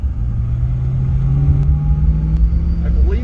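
A supercharged 2006 Saleen Extreme with bigger injectors cruises along, its engine a steady low rumble with a droning mid tone and faint road noise throughout.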